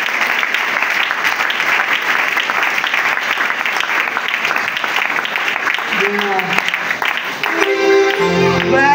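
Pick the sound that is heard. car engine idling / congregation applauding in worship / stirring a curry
congregation applauding in worship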